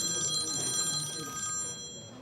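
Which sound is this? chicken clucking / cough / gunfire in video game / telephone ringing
telephone ringing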